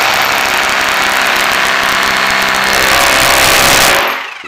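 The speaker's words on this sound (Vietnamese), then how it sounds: "Rồi bây giờ khoan bê tông thử, không khoan mũi nhỏ nữa." A rotary hammer drill bores into concrete with a large 26mm bit, giving a loud continuous hammering buzz for about four seconds before cutting off abruptly.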